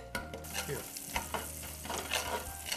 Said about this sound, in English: Try to saute the garlic just for a minute or so.